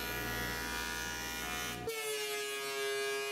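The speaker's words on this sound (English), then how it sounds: "the resawn faces of the sides get a very light pass on the joiner to remove any tool marks" A jointer makes a light pass over resawn wooden box sides, first a loud steady machine drone, then a tonal ringing hum as the cut finishes, with no talk.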